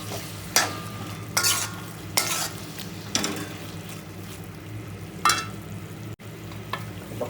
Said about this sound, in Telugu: ఈ వెల్లుల్లి కారం వేసుకొని ఇది ఒకసారి మంచిగా కలిపేసుకొని ఒక టెన్ మినిట్స్ మీడియం ఫ్లేమ్లో వేయించుకున్నాం